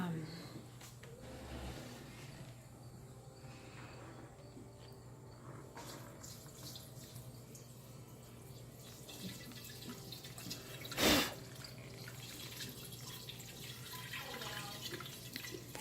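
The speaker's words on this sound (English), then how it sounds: "I am going to pour inside my container." A gallon of brewed tea is poured into a kombucha container, a soft, continuous trickle and splash of liquid under a low steady hum, with one brief louder clatter near the end.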